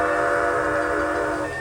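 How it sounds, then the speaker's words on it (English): Steam locomotive 3025 arrives at a crossing on Connecticut's Valley Railroad, sounding a loud, sustained whistle with several tones for under two seconds. "My favorite steam engine of the bunch is coming in, the 3025."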